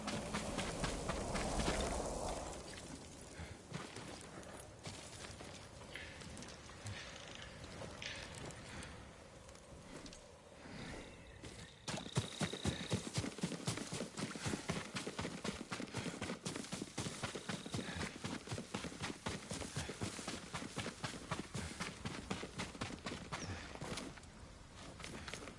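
Horse hooves clip-clop steadily on the ground in the Ghost of Tsushima video game, a soft uneven gait at first that becomes a fast, regular trotting rhythm for the second half, with ambient outdoor noise behind.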